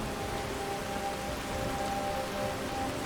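Steady rain in the Skyrim video game, a continuous dense hiss of falling drops that stays even and fairly loud throughout, with no voices over it.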